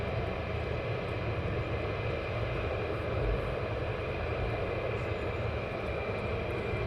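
A V-22 Osprey tiltrotor aircraft flies out of Mildenhall, giving a steady, broad rumbling drone that holds at an even level throughout, with no voices.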